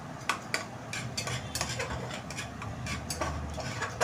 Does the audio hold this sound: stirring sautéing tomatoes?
yes